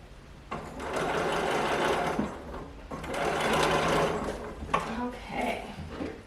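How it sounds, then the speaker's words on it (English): A home sewing machine runs in short bursts while back stitching a seam on a baby garment, the steady motor whir stopping and restarting, followed by lighter handling clicks. "And then we will back stitch when we get here to this edge."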